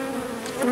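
Honeybees buzzing at an apiary hive during a late-summer inspection, a close, steady droning hum that lasts under a second.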